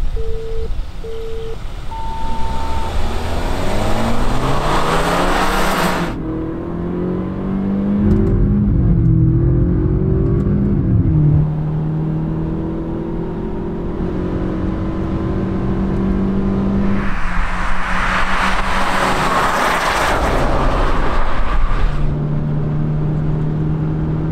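A BMW 320i F30 and a Mercedes C180 W205 drag race on a track, engines revving hard and climbing through gear changes with loud bursts of acceleration, no talk over them.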